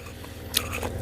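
Meat is chewed close to the mic in a moist, squishy bite with soft mastication over a low background hum, lasting about one second and with no talking.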